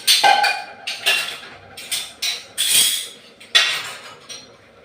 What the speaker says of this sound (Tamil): பாருங்க இப்படி கலக்கி விடுங்க